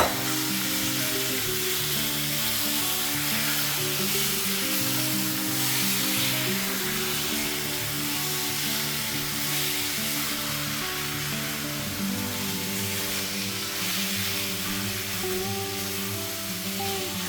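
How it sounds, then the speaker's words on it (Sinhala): Chicken pieces fry in a pan with chilli powder and roasted spices for a string hopper kottu curry, giving a loud, steady sizzle with occasional stirring and no pauses. "දැන් chicken ටික දාගන්නවා."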